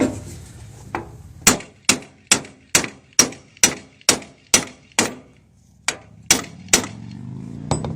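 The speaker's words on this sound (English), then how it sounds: "We can give it a tap with a hammer because we know all the rollers are in." A hammer gives a new universal joint repeated sharp metallic taps to seat it while replacing the joint and centre bearing, about fourteen close, loud strikes in a steady rhythm, then a short pause and a few final taps.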